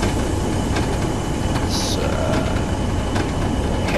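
A long, heavy oil train rumbles steadily in Train Sim World, a constant low mechanical drone with faint rhythmic clicks and a brief high squeal, with someone talking over it.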